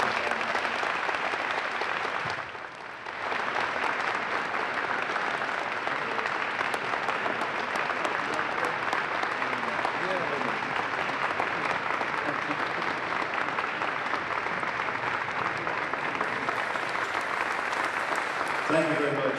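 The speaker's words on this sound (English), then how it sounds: "So can we please have a round of applause for this?" Applause at a school ribbon-cutting ceremony, with a large crowd clapping loudly and steadily. After a short dip near the start, it carries on for about twenty seconds.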